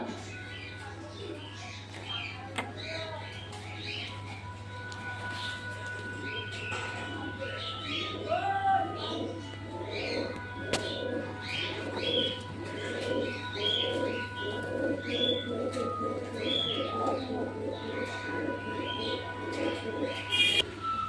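Soft, repeated cooing of satin pigeons in a steady series, with some faint chirps and a constant low hum underneath.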